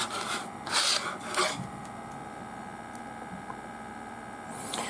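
Several short scraping rasps come close up as a small non-magnetic screwdriver turns tiny screws into an M.2 SATA to 2.5-inch SSD adapter, then a steady faint hum continues with no talking.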